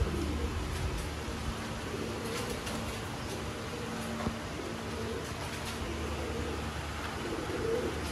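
Rare pearl-eyed Sialkoti pigeons coo softly and steadily under constant background noise, with no clear breaks.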